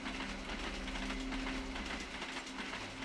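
A train rolls along a railway in a steady, continuous rumble with a faint rhythmic clatter of wheels, moderately distant and without voices.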